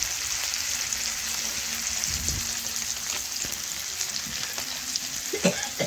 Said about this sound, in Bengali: এইভাবে নাড়াচাড়া করে মিশিয়ে আমি ভেজে নেব